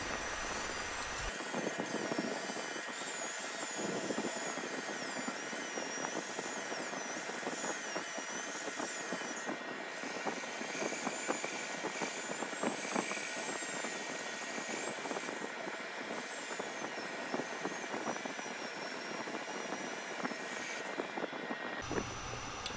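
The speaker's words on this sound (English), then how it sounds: "I'm going to power sand the rest of the platter" A power sander works a wooden Ogee platter spinning on a lathe, giving a loud, steady whirring drone that runs unbroken for about twenty seconds, starting and stopping abruptly.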